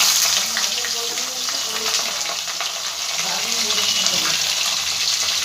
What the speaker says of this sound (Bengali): এই পর্যায়ে আমি আলু আর করলাগুলো ভেজে নেব।